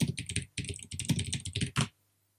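Quick bursts of key presses on a computer keyboard as search terms are entered, close and crisp in fast rhythmic clusters, ending in silence.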